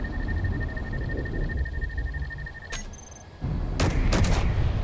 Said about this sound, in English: We'll see if the guns start firing.